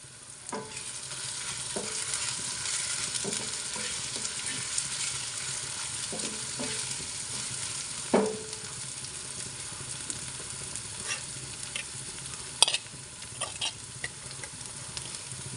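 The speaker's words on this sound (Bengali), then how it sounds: "এখন পেঁয়াজ কুচিগুলো একটু ভেজে নিচ্ছি আদা রসুন বাটা দিয়ে দিচ্ছি দুই চা চামচ" Chopped onions fry in oil with ginger garlic paste, a steady hissing sizzle under intermittent spatula scrapes and taps, with a couple of sharper knocks against the pan.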